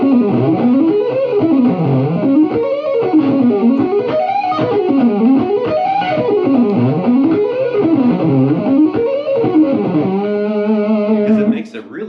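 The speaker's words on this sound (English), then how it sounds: "sometimes it's kind of fun just to, max out a fuzz pedal and then just start shredding." Electric guitar runs through a maxed-out MXR Fuzz pedal, playing fast sweeping shred runs up and down that end in a sustained held note, loud, thick and heavily distorted.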